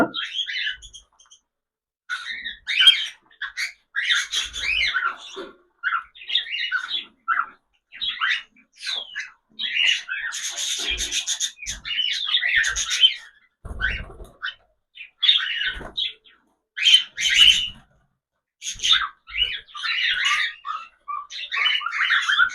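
Many cockatiels, including black ones, chirp and squawk continuously in shrill, overlapping calls, close and busy, with a few low knocks in the background.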